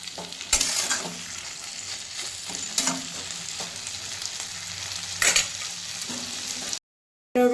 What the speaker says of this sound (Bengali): দিয়ে দিলাম বড়াটা দিয়ে এখন নাড়াচাড়া করবো